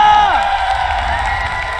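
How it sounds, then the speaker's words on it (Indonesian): Arena crowd at an MPL Mobile Legends esports match, RRQ versus Bigetron, cheering and applauding in a broad steady roar that holds throughout, with a brief voice or tonal sweep near the start. "mana tepuk tangannya?"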